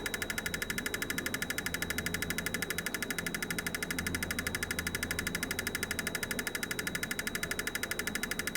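A car engine idling on Amazon-bought Chinese fuel injectors, a steady rhythmic ticking idle with a faint knock, fairly quiet and close, with no talk.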